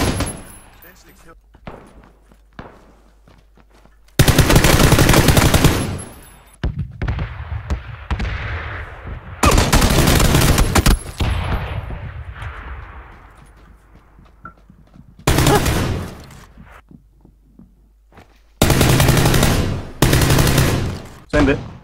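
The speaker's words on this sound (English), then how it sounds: "Why is everyone shooting me when I'm down?" Loud bursts of gunfire from the battle-royale game PUBG ring out in several separate volleys, each lasting a second or two, with quieter gaps and echoing tails between them.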